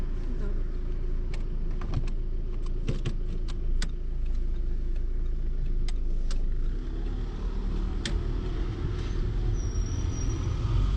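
Car pulling away straight through an intersection during a driving lesson: a steady low engine and road rumble runs throughout, with scattered clicks and small cabin noises on top, and no speech.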